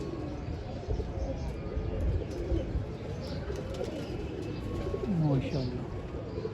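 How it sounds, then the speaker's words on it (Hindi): Pigeons from a racing pigeon club coo softly in low, rolling calls around a roost while one lands, under a steady background hum, with someone talking over them. "ये कबूतर हमारा बैठा दोस्तों"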